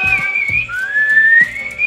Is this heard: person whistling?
yes